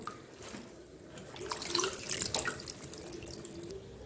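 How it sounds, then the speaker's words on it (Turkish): Water runs and splashes into a sink as boiled cabbage leaves are drained in a colander, a soft close trickle that swells into a brief, brighter splash before easing off. "Haşlamış olduğum lahanaları soğuk su içerisinde bir 5 dakika beklettikten sonra bir süzgeç içerisine alıyorum."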